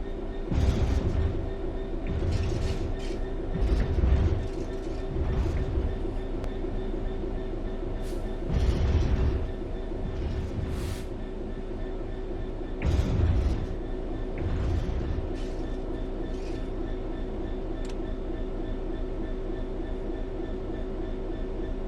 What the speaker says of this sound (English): The train will then coast on level ground, and the train will only slow down very gradually.